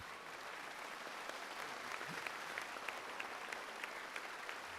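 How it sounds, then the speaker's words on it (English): Audience at a panel discussion event applauds in a continuous, fairly faint wash of clapping with a few sharper individual claps standing out, heard from a distance. "Let's give these guys a huge round of applause."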